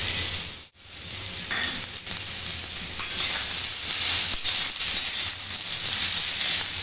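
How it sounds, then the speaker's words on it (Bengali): Chopped coconut pieces fry with potatoes for a samosa filling, giving a loud, close, steady sizzle and hiss that runs through the whole clip with only one brief dip and no talking. "নারকেলগুলোও আমি আলুর সঙ্গে ভেজে নেব।"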